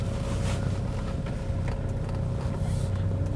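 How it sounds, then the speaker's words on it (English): A Volvo 740 car drives over a bumpy field, its engine giving a steady, close, loud drone with a constant hum and rattling, bumping noises throughout. "we're going to have a go in a Volvo"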